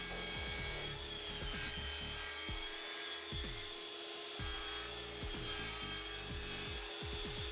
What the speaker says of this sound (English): I break out my crosscut sled and square up both ends